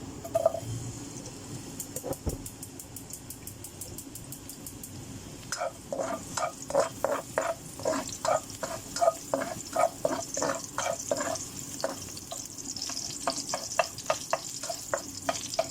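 Oil sizzling in a frying pan, a faint steady hiss at first, then a run of crackling pops and spatters that grows busier and louder through the second half.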